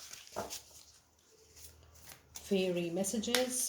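Oracle cards being shuffled and drawn by hand during a tarot-style reading, a soft papery riffle and flicking that grows denser and louder toward the end, with a voice speaking over it.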